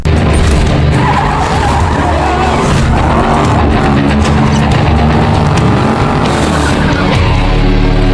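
In a film car chase on a racing circuit, tires squeal and skid loudly and continuously over a roaring engine, close up, with a rough scraping, crunching edge toward the end.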